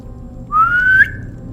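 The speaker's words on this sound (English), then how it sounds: "Lupine at this point just whistles." A person gives a single short whistle, a clear tone rising slightly in pitch for about half a second, heard alone over faint low background hum.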